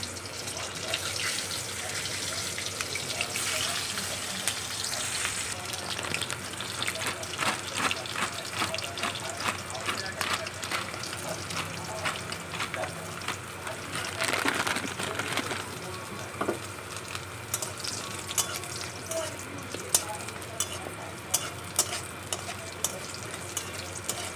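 Lentil dumplings (bori) frying in a pan give a continuous close sizzle with frequent small scrapes and clicks of stirring, as running water and brief voices sound in the background.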